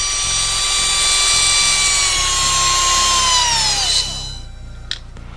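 A 540/550-size brushed electric motor for an RC car whines steadily near 23,500 RPM, a loud high-pitched tonal spin that holds for about four seconds, then drops in pitch and spins down.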